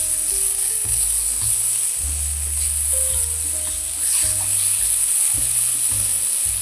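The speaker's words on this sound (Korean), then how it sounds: "호박을 살짝 볶아낼 거예요." Zucchini stir-fried fast with a pinch of roasted salt in a hot, oiled pan: a loud, close, constant sizzle with rhythmic stirring and scraping of the pan, and no voices.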